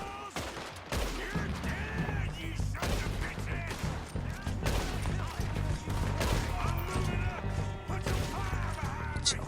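Gunfire rings out during the Old Friends mission in Red Dead Redemption 2: rapid, sharp shots crack repeatedly over a shootout, while voices talk in between the bursts.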